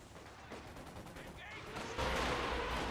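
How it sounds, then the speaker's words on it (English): Katyusha rocket artillery barrage in Company of Heroes 2, a muffled rumble of distant rocket impacts that swells sharply near the end into a loud, dense roar, with faint game noise and a voice underneath. "Katusha barrage."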